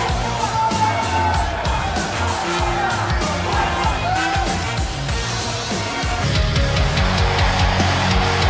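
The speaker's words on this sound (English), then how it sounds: "it sounds to me like this crowd already picked the one who they want to win this match" A crowd cheers and yells in a WWE 2K19 wrestling video game arena, with a loud, continuous roar that swells near the end and commentary voices running underneath.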